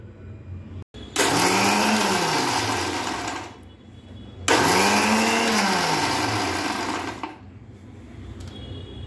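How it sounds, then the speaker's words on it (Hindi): A kitchen mixer grinder pulses twice to coarsely grind boondi for motichur laddu, each burst a loud whirring motor run of about three seconds that winds up, then dies away, with a short pause between. "बस हमने 4 से 5 बार ऐसे मिक्सर को ऑन ऑफ किया है"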